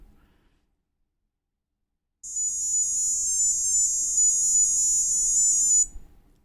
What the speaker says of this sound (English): So that is the alarm theme that you will hear when the alarm goes off